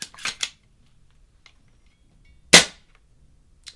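An airsoft gun fitted with new springs fires in sharp, close snapping cracks, first a quick cluster of shots, then one loud shot after a pause, in a quiet space.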